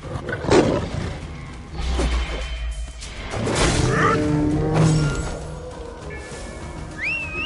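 A lion roars inside the video game Assassin's Creed Origins, a deep, loud growling roar set among layered game ambience, rushing whooshes and a brief whistle-like tone near the end.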